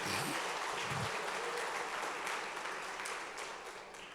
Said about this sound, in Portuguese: Dá um aplauso bem forte ao Messias